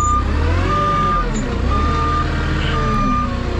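A forklift working on a steep, snow-covered, slippery hill with its tires sliding sideways: a loud, steady engine drone nearby, with repeated high reversing-style beeps sounding at regular intervals over it.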